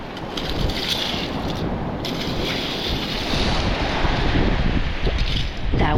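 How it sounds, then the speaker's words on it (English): Strong wind gusts across a shell-strewn beach with surf rolling in, a constant, heavy, roaring rush buffeting the microphone, with no voices over it. "That wind though, oh my gosh."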